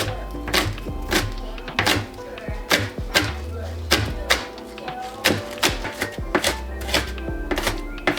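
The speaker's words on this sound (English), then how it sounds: "get all the whites chopped up and throw them in with your potatoes" A knife chopping green onion whites on a cutting board, sharp knocks in irregular clusters and pauses, close and fairly loud.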